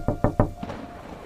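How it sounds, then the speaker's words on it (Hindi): Three sharp knocks on a door in quick, even succession, close and clear, followed by a softer fourth tap and brief ringing. "दरवाजे पर दस्तक सुन"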